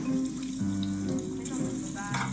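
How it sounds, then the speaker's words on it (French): Running tap water splashing steadily into a kitchen sink during dishwashing, a continuous close hiss and patter with faint clinks and a low background hum throughout. "moi je fais la vaisselle"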